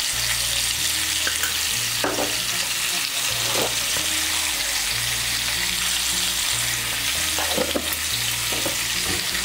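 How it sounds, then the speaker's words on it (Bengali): Pumpkin pieces fry with salt and turmeric in a wok, producing a loud, continuous close sizzle with occasional stirring scrapes, while a steady low hum runs underneath and no one speaks. "মিশিয়ে নিয়ে কুমড়োটাকেও ভেজে নেব"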